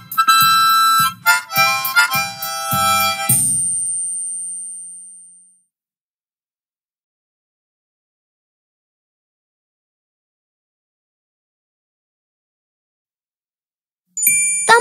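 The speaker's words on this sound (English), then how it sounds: "The harmonica is made of wood and metal. It's small enough to carry in your pocket. You blow into it to make these sounds." A small wood-and-metal harmonica being blown, playing a short run of bright, reedy chords and notes for about four seconds before fading into silence, with a brief bright tone returning at the very end.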